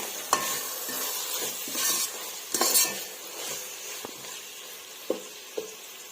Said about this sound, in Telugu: 3 మీడియం సైజ్ టమోటాలను యాడ్ చేసుకుంటున్నాను. ఇవి కూడా బాగా ఫ్రై చేసుకుందామండి.